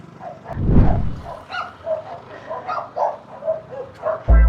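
Big dogs bark at a house, a string of loud, close barks and yips in irregular bursts, with a sharp thump at the end.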